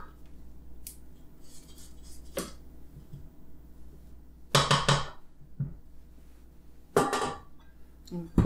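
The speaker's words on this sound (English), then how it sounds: "scrape down the sides." A spatula scrapes down the sides of a mixing bowl of paczki dough, making a few separate clinks and scrapes spread apart in a quiet kitchen.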